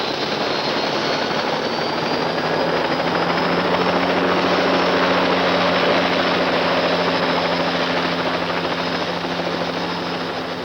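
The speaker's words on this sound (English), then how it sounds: "in 1956, the first helicopter flights were made for engineering reconnaissance" A helicopter flies on an engineering reconnaissance flight, its steady, loud rotor and engine drone holding constant throughout, alone with no talk.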